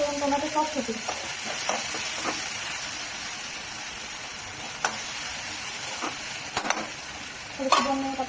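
Chopped tomatoes frying in a pan with reddened onions for a karatule (spiny gourd) bhaji, a continuous faint sizzle and hiss with a few sparse scrapes and clinks of stirring, fairly quiet throughout.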